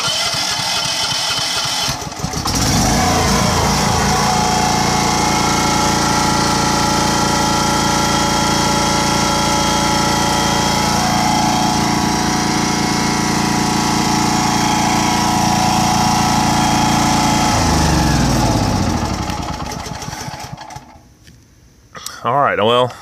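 A Champion 3800-watt dual fuel generator running on propane, starting and then holding a loud, steady close engine drone for about twenty seconds before shutting down, with no talking.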